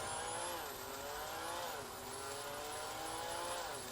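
A synthetic engine note from a mini RC car's Meus Micro sound module revs up and down in smooth, rising and falling sweeps, steady and fairly loud, with no talking.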